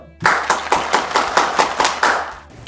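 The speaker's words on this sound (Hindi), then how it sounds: "आपकी तालियों में तशरीफ लाते हैं बिशप जॉनथन रहमत।" An audience at a church program claps in unison to welcome a bishop: about nine sharp, evenly spaced claps in a steady rhythm, close and fairly loud, with no talking.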